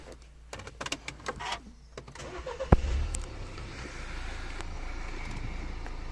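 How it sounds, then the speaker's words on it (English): A Mini Countryman engine cranks and catches after a few soft clicks and shuffles, then settles into a steady, low idle close by. "So I'll just turn the car on."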